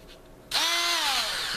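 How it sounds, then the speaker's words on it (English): A small high-speed Dremel rotary tool with a diamond-shaped high-speed cutter bit whirs to life with a sudden shrill whine, dipping slightly in pitch as it spins, close by and loud. "See, I've got here a little Dremel tool."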